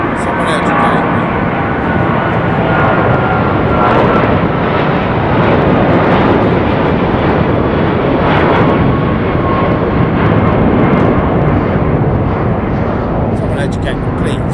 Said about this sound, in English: American Airlines 777-200, and that is off to Runway International Airport